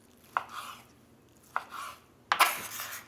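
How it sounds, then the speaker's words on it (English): A knife cuts cooked roast beef into strips on a board, three distinct strokes, each a sharp tap of the blade followed by a short scraping slice, close up and with no talk. "So we're going to take our roast beef and we just want to slice it a little bit."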